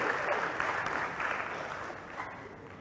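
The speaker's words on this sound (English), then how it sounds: "join me to give a big round of applause" Quiet applause from a student debate audience, a soft, even wash of clapping from a crowd that slowly tapers over about three seconds.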